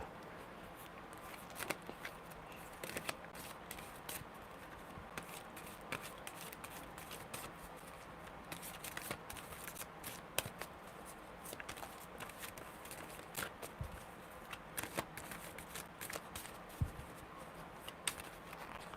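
Tarot cards are shuffled by hand for a live reading, giving faint, quick riffling and soft slapping clicks that recur irregularly throughout, close but quiet, with no talking.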